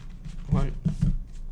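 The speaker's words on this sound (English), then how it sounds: "One more, 2 more shuffles, maybe 2 more." A deck of tarot cards is shuffled by hand in a few quick riffling bursts, close and crisp, with brief pauses between them.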